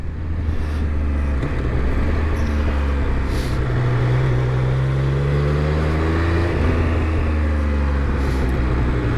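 A Triumph RS 1200 Speed Triple motorcycle runs at low speed with a loud, continuous engine and exhaust drone whose pitch rises and falls steadily, heard close from the bike itself on a test ride.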